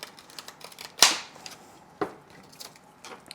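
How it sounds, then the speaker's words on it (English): Pruning shears snip through a thick plant stem with one sharp loud cut, then a softer second snip a second later, close up amid faint rustling, with no speech. "I'm just taking my pruning shear and I'm just going to cut in between two nodes"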